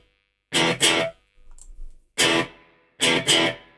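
Electric guitar run through a Line 6 Helix modeler on a preset, with distortion before the amp and chorus after, plays short loud chord stabs in pairs separated by silence, with a softer muted strum between.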